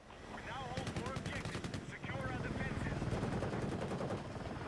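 Battlefield 6 gunfire, rapid automatic bursts with helicopter rotor noise on Liberation Peak, sitting under steady game din while a voice talks over it.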